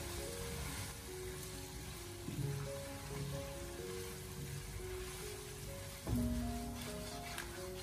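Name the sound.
stir-frying green and red chili peppers with braised duck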